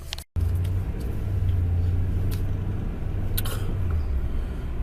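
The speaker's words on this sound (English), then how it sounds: "I hate traffic." Road traffic rumbles from inside a car in an even, low drone, with a few faint clicks and brief passing swells. No one speaks.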